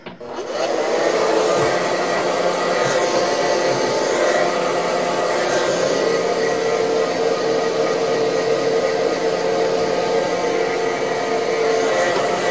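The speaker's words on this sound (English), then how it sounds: "now you're going to take your blow dryer and you're going to blow dry it" A handheld blow dryer runs steadily and loudly while drying a hair frontal during installation, its broad airy roar holding constant from start to finish with no talking.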